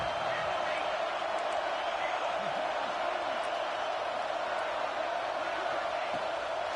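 Stadium crowd roaring steadily in a college football video game, Miami against Nebraska on a big third down, a constant loud wash of cheering under a commentator's voice.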